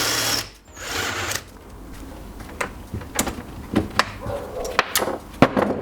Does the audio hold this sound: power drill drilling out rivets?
yes